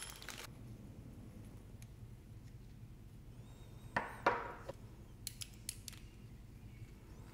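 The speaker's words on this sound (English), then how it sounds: "take the screw out so you can open it up" A screw is backed out of an SP Connect motorcycle phone mount, heard as a few faint close creaks and small ratcheting clicks against a quiet background.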